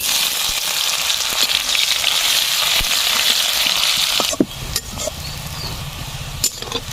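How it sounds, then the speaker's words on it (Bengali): Chopped onions fry in a pan with a dense, steady sizzle for several seconds, then the hiss drops away abruptly, leaving a few scattered clicks and a low hum. "পেঁয়াজটা ভালো করে ভেজে নিয়েছি"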